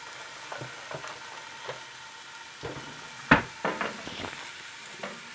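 Onions, garlic and Scotch bonnet pepper frying in a pan for Jamaican pepper prawns: a steady close sizzle with a few sharp clinks and scrapes of stirring, one loud knock near the middle.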